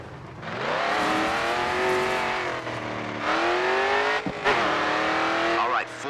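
A racing car engine howls at full throttle in the Grid 2 video game, its loud steady pitch rising through the gears with brief dips at shifts. A commentator's voice runs over the engine throughout.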